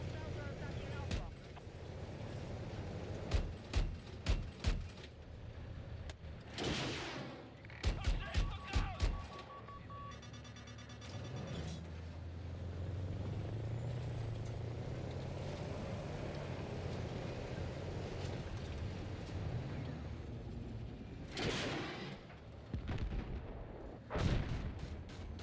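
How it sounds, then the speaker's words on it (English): Grenade explosions and gunfire in a shooter video game, scattered sharp shots and a few heavy booms over a low rumbling background, with a voice talking at times. "Trying to lob grenades into Delta there"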